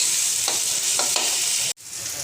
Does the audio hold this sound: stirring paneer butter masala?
yes